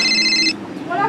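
Telephone ringing, with a short, bright electronic ring tone heard near and loud for about half a second, then a quieter tone returning near the end, and voices talking around it.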